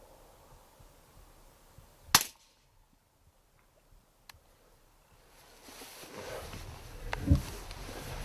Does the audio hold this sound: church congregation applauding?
no